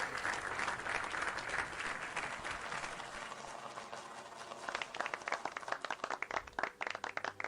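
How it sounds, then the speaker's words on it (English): An esports audience at an EPT North America event claps in a steady wash of applause that thins into scattered, sharper individual claps toward the end. "think that was an appropriate number of claps"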